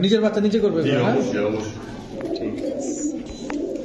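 Silver bezi pigeons with bezi-type necks coo softly in a breeder's loft, their low murmuring running steadily beneath close, continuous conversation between men.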